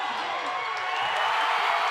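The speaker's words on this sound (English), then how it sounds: "Listen to the crowd!" Crowd roaring at a high school basketball game, a dense, sustained wash of cheering and shouting from a packed gym that holds steady and swells slightly, with no single voice standing out.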